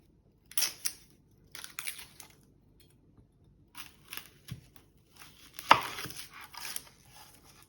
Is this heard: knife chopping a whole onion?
yes